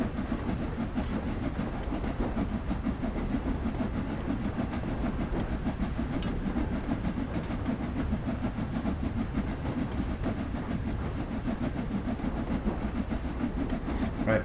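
A train rumbles along steadily in the video game Train Sim World 2, on the Liverpool Lime Street to London Euston route, with a constant low roll and faint clickety-clack, heard alone without talk.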